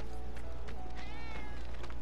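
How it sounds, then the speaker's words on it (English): A cat in Final Fantasy 7 Remake gives a single drawn-out meow partway through, fairly faint over a steady bed of in-game ambient noise. "Oh? That was definitely a cat."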